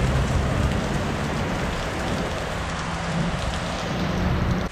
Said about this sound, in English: right now we are just stuck in the middle, under a roof, waiting for the rain to stop